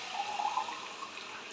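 Water is poured into a pressure cooker for broken wheat khichdi, a short, steady splashing pour heard close and alone.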